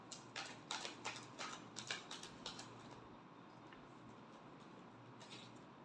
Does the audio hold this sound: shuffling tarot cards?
yes